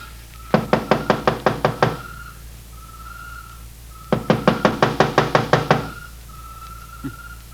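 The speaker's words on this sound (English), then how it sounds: "First time I ever heard of targets knocking on the door." Two quick bursts of rapid knocking on a door, about eight raps each, sound close and sharp in an old radio detective drama, with a faint whistling tone sustained between them.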